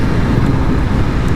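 A 2023 BMW S1000RR motorcycle cruises on a wet, cold road, giving a steady, close, continuous engine drone with road and wind rush beneath it and no breaks.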